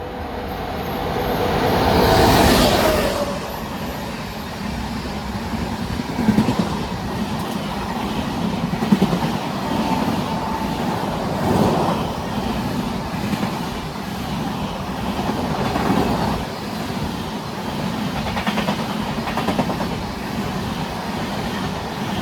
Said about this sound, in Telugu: train number 12621 MGR Chennai central New Delhi Tamil Nadu super fast express